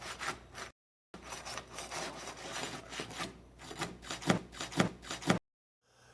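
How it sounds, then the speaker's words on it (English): A roofing bar is worked up under composition asphalt shingles to break their seal, giving repeated gritty scraping and rubbing strokes close by, with a brief pause early on and a rhythmic series of harder rasping pushes near the end. "gently slide a roofing bar up under the selected shingles to break the natural seal of the roof"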